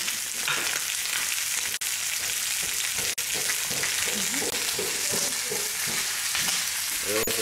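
Chicken browning in a hot pan for a pot roast gives a continuous close sizzle and spit, broken by a couple of sharp knocks and scraping stirs as the pieces are moved.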